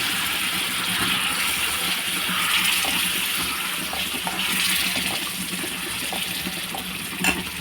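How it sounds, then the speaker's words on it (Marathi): Water poured into a pot of ground masala for chole, a steady close splashing and gushing that runs the whole stretch with small rattles of the vessel. "यामध्ये आपण थोडंसं पाणी टाकून घेऊया"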